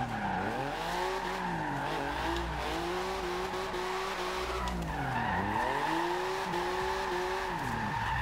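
A 1982 Porsche 911 Turbo 3.3 drift build slides through Forza Horizon 2, tires squealing in long sustained skids while the flat-six engine rises and falls in pitch across two sweeping drifts.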